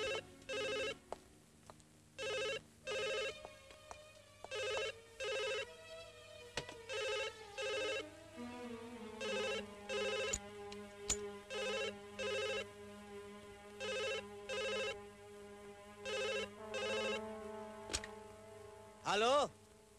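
An old-style telephone bell rings in regular repeated bursts, moderately loud and steady, over a quiet background with faint low hum.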